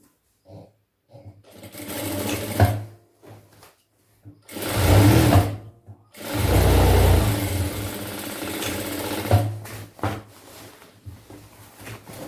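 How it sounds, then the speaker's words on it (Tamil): A sewing machine runs in several bursts while joining a seam on a pant for a chudidhar outfit, each run a loud steady whir lasting one to two seconds with short pauses and quieter handling between, no talk over it. "ஜாயின் பண்ண மாதிரி தையல் போட்டுக்கலாம்."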